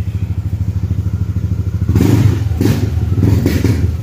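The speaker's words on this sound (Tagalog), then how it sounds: "Yung makina mga brad, tahimik lang. Ayan, rev nga natin konti." A Yamaha NMAX version 2 scooter idles steadily close by, then its engine is revved in a few short bursts that swell and fall back over the steady idle.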